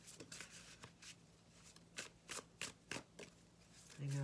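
Tarot cards being shuffled and drawn, a series of soft, close riffling and flicking bursts in an uneven rhythm, faint and alone in a quiet room.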